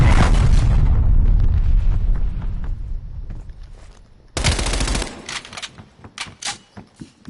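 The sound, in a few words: artillery strike in Call of Duty video game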